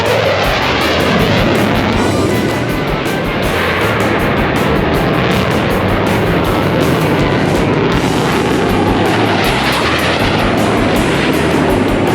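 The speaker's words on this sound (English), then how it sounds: "From the left, the Growler split brake." A Navy Growler jet flying past at an air show, a loud, continuous roar that stays at full strength throughout, with a hissing high-pitched edge and a low rumbling underneath.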